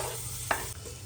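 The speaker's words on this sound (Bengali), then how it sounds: "আদা রসুনটা একটু নেড়ে নেব" Crushed ginger and garlic frying in hot oil with whole spices, stirred once with a brief scraping clatter over a steady low sizzle, no voices.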